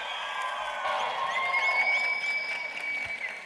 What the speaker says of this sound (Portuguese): uma salva de palmas e muito barulho para Bruno Playhard.